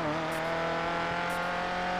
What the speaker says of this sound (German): kurz auf die Bremse gehen, damit er schön runterschaltet für die Kurve